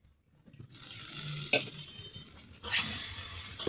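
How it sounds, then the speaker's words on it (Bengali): Chicken meat dropped into hot, cooked-down masala with chillies for biryani, bursting into a loud close sizzle and stirring clatter, with a second surge of frying partway through. "এখন আমার মাংসগুলি ছেড়ে দেব।"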